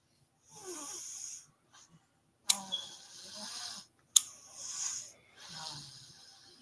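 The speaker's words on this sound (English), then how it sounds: "these kids are snoring like they got a motherfucking job in here" Children snore close by in three long, rasping breaths separated by short silences, each one rough and drawn out.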